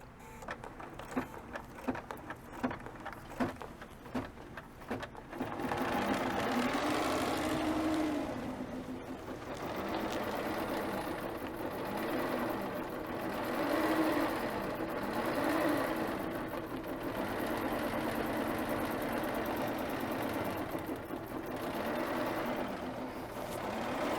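BERNINA B990 sewing machine stitching through a quilt: a few clicks and taps at first, then a steady, close motor whir with rhythmic needle chatter running unbroken to the end.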